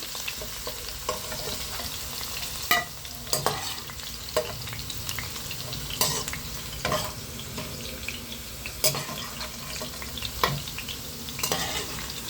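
Okra sautés in hot oil in a pan, giving a soft continuous sizzle broken by sharp scraping clicks as a spoon stirs it every second or two, with no voices.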